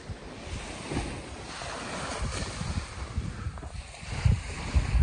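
Sea waves at high tide washing against a seawall, a close, rough wash of surf with wind buffeting the microphone and several louder surges toward the end.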